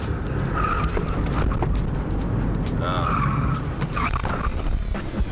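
A car swerving through a lane change at about 25 to 27 mph without brakes, giving a constant loud engine and road roar with short bursts of tire squeal, close up.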